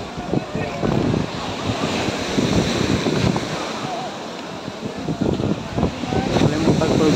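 Strong wind and breaking sea waves on Puka Beach, Boracay Island: a continuous roar of surf with gusts buffeting the microphone, loud and steady throughout.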